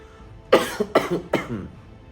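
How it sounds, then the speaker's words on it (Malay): Three quick, sharp coughs in a row, close and fairly loud, with no talking. "sorry guys, terbatuk"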